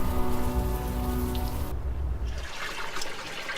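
Steady rain pattering on a surface in the video game Unavowed, with a low hum that cuts out partway while the rainfall continues.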